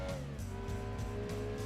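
A Mazda MX-5 racing in Gran Turismo 2, its engine droning steadily at high revs with a brief hint of tire noise, loud and continuous throughout.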